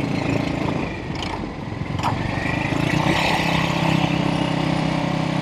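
Velocette Venom Clubman 500 single-cylinder motorcycle engine running steadily while riding, a continuous close, fairly loud drone with a brief dip in the middle as the bike slips out of gear, no talking.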